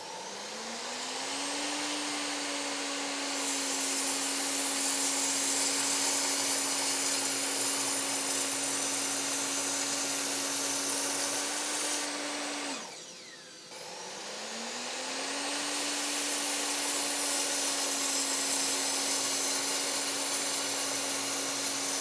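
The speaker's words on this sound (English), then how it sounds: "no issues with cutting through even thick material like that in one single go" An Evolution mitre saw runs loud and steady while cutting through thick material. A sustained whining drone briefly dips and spins down midway, then winds back up and holds to the end, with no talk over it.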